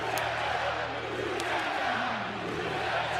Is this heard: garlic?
no